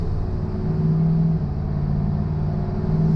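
A boosted twin-turbo Ford F-150 truck with a 5.0 V8 cruises at steady speed with the windows down, a continuous loud low engine drone and road rumble heard from inside the cab, without talk.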